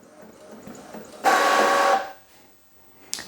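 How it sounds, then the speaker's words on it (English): An Epson EcoTank ET-2850 inkjet printer printing a photo sent from a phone, giving a single loud mechanical whir of feed and print-head motion for under a second against quiet room tone, then a small click at the end. "It's a pretty quiet printer."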